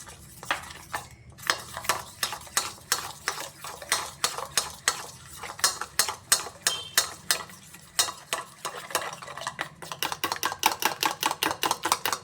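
A spoon stirs a vegetarian cabbage dish in a pot with a little water, making quick rhythmic scrapes and clinks against the metal, close and steady with brief pauses.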